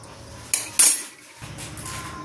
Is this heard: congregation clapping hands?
no